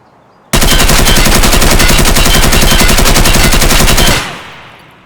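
A sustained, very loud full-auto burst from a crouched shooter's assault rifle in Escape From Tarkov hammers out for about three and a half seconds, then cuts off and its echo fades.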